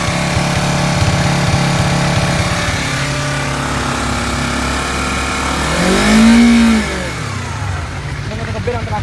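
A Honda CBR250RR motorcycle on its original exhaust revs at around 4000 rpm in Sport Plus mode, a loud, close, buzzing engine drone that holds steady and then swells in a brief rising-and-falling throttle blip.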